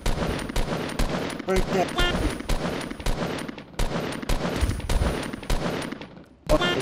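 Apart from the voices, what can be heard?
gunfire in a video game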